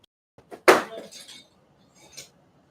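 Glass smashes in a single sharp, loud crash, followed by a short scatter of tinkling fragments and a faint later clink in an otherwise quiet room.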